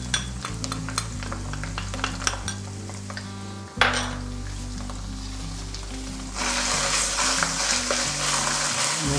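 Red chili powder, chopped ginger and turmeric stirred into a sizzling pan, a spoon scraping and clinking against the metal over steady frying crackle that grows brighter and louder toward the end, with no talking.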